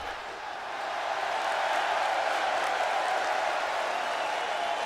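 A sold-out arena crowd at a debut wrestling show cheers and applauds in a steady, loud roar that swells in the first second and then holds without a break.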